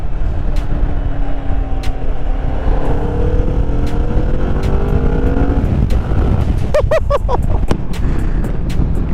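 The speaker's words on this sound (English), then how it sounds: "That is unreal induction noise." Intake and engine roar from a Kawasaki Vulcan 650 S cruiser motorcycle on the move, the pitch sweeping upward through several accelerations over steady wind rush, heard close and fairly loud.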